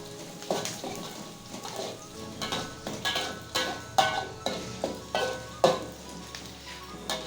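Shallots and spices sautéing in a pan for stir-fried chayote, a continuous sizzle broken by regular scraping strokes of stirring, close and moderately loud with no talk.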